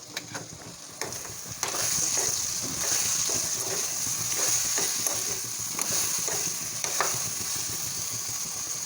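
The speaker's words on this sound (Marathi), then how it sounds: "कव्हर काढून भाजी मिक्स करून घेऊया" A dry potato vegetable bhaji is stirred in a hot pan, with a steady sizzle and repeated scraping and clinking strokes of a spoon against the pan. There is no talk.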